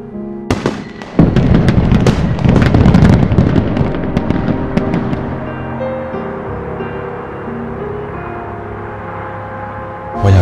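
Fireworks burst loudly with a few sharp cracks, followed by a dense, continuous crackling and rumbling barrage that gradually thins out, with no talk.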